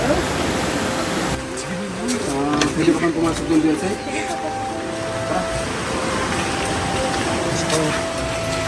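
High sea waves roll and crash as a steady, broadband surf roar at a shoreline, continuous throughout, with several people talking close by over it.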